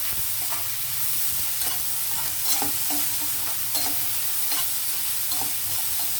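A capsicum potato curry seasoned with salt is stirred in a hot pan, giving a constant low sizzle broken by repeated spatula scrapes and clinks at an irregular pace, close by, with no voices.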